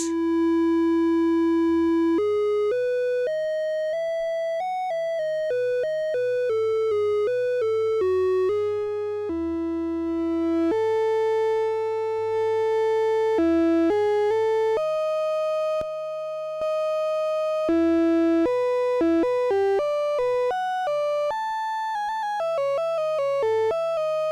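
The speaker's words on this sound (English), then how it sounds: "We can now see and hear how the generated waveform stays in sync with the sine wave as the pitch changes." A pure, sine-like synth tone from a slope generator module synced to a sine wave, stepping through a constant run of changing pitches, holding some notes longer and others briefly, steady and loud with no voices.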